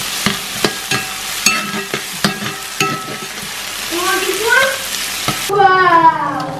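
Garlic, onion and tomato fry with cumin in a pan as a steady sizzle runs beneath a series of sharp utensil clicks and taps, followed by a voice that rises near the end.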